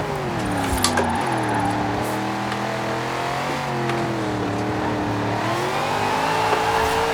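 A car in Forza Horizon 4 drifts with too much angle. Its engine revs and wavers in pitch as the car slides, with sharp tire chirps over a continuous loud exhaust drone.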